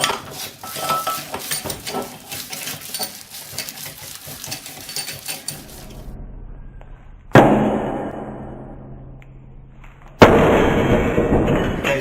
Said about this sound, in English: it's just popped up, and now I can lift it off.